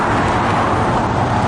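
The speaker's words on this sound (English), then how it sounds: "There's the bus coming in." A city bus pulls in at a stop in Springfield, Oregon, a steady loud broadband engine and road rumble filling the short stretch without pause.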